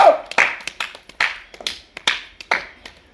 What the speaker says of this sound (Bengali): আক্কাস আলী বড় ভাই হাততালি তার জন্য